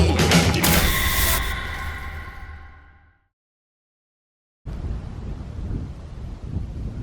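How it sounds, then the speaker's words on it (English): Strong wind high up on Franklin Canyon Drive buffeting the microphone: loud, roaring gusts that cut out completely for over a second, then return as a steadier rumble. "It's actually really windy today"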